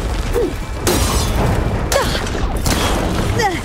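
Weapon fire in Horizon Forbidden West: several sharp, loud broadband blasts about a second apart over a constant rumble of battle and machine noise, with faint vocal sounds in the mix.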